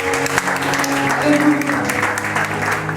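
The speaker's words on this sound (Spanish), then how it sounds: "bríndale un fuerte aplauso al Rey en esta mañana" A church congregation applauds during a morning service, sustained clapping blended with voices and talk over a musical background.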